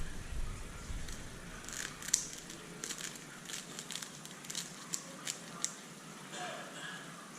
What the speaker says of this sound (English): push some of the foam into in between the scissors and try to cut it right out